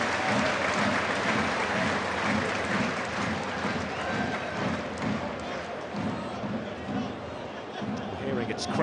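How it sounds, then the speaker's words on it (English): Football fans at Bradford versus Bristol Rovers applauding a substituted player, a broad, steady wash of stadium clapping and crowd noise with commentary over it. "And the fans rise to applaud their hero."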